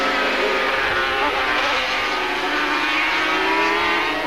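250cc and 350cc Grand Prix racing motorcycles scream past at Lakeside Raceway in 1987, a loud sustained engine roar with shifting pitch as bikes power through a corner.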